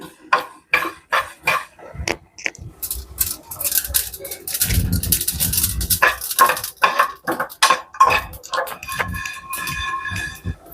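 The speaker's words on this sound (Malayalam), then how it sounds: "ഇത് കടുക് പയ്യെ പൊട്ടി തുടങ്ങി." About two tablespoons of mustard seeds popping in a dry pan while lemon pickle is made: sharp, irregular pops and crackles, close and fairly loud, bunching into quicker bursts midway.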